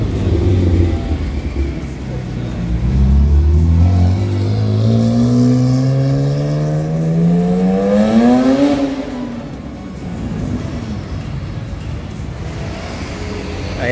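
A Porsche Turbo engine at a cars and coffee meet in Manila, loud and close, climbing in a long rising rev then dropping back to a rumbling idle amid crowd noise.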